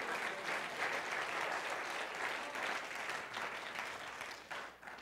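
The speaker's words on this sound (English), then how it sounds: "Somebody clap your hands for just a moment." A church congregation claps their hands together, a dense, steady round of applause that fills the room for several seconds and tapers off slightly at the end.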